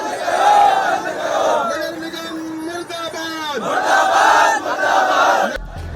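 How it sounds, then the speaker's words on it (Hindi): Loud crowd of protesters in Bhopal, opposing cow slaughter, chanting and shouting slogans in unison, the voices rising and falling in repeated waves. "भोपाल में गौ हत्या के विरोध में गुरुवार को भी प्रदर्शन हुआ।"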